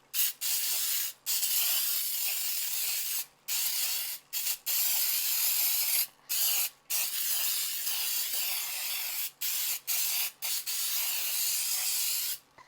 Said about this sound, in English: take the spray and spray it away from my oven. And be sure to coat it all around.